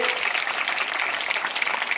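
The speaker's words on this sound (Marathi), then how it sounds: "त्या विद्यार्थ्याचं आपण एक जोरात टाळ्या वाजून अभिनंदन करूया" Steady applause for prize-winning students at a Zilla Parishad school gathering, a dense, even crackle of many hands clapping throughout without pause.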